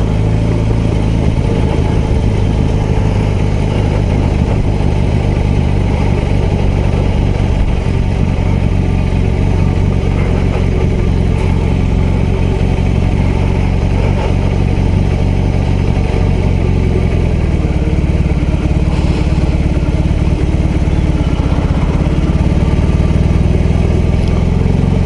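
A BMW R18 B motorcycle engine runs loudly and steadily up close, its mid-pitched drone continuous throughout with slight changes in revs.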